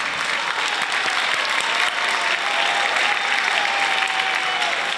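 Sustained, dense applause from a crowd at the Jamaica Poetry Festival for a poet, steady and loud throughout with a faint voice briefly audible above it.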